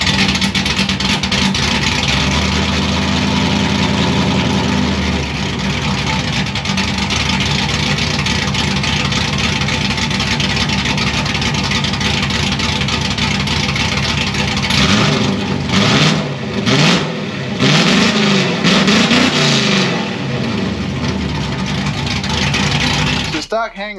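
A modified 4.8 Mustang GT V8 with a full X-pipe over-axle exhaust rumbles loudly at idle and revs in bursts near the end, with people talking over it at times.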